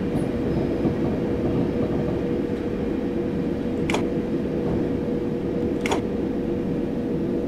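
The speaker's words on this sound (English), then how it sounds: "Just about be able to fit this train on this platform." A simulated train sits at a London platform in Train Simulator 2020 on a run from Kensal Green Junction toward Willesden, a steady low rumbling hum broken by two brief sharp clicks, with no talking.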